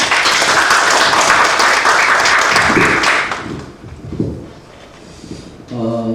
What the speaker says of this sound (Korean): 모두 박수로 환영해 주시죠.